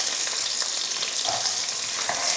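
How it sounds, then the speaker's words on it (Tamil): Sliced onion sizzles and fries in a large pan of oil with cumin and dried red chillies for a spinach stir-fry, a steady crackling hiss with occasional stirring scrapes and no talking. "வெங்காயத்தை வதக்கிடலாம்."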